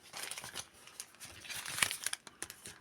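Soft crinkling of plastic wrappers being handled close by, with irregular rustles and small crackles throughout.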